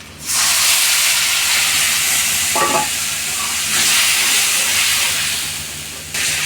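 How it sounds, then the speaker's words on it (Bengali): A spice mix of chili powder and salt hits frying onions in hot oil and sets off a sudden, loud, hissing sizzle that holds steady with a brief stirring scrape, then fades slightly at the end. "এগুলো আমি মিক্সচার করে ভালো করে নাড়া দিয়ে পেঁয়াজের মধ্যে ঢেলে দিই।"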